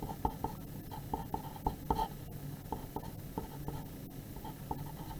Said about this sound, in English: I'm going to write them all out.